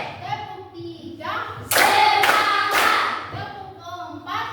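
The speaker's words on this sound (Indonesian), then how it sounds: "Tepuk 3." A classroom of pupils claps in unison three times, sharp and close, the claps landing in a quick even rhythm between a teacher's spoken count, with voices heard before and after.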